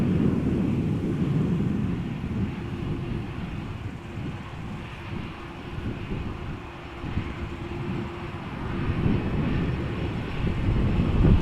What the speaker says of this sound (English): A330 Neo coming our way